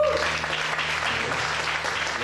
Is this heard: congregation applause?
yes